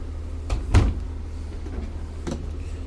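Wardrobe door inside a 2023 Renegade Valencia 38RB motorhome swinging open or shut, a couple of soft knocks and a brief thud close by, with a quiet room hum and no talk.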